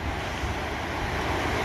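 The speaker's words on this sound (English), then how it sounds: "So a lot of water going down the river today." A river runs high after a night of hard rain along an Appalachian Trail thru-hike, giving a continuous, loud, broadband roar with no voices.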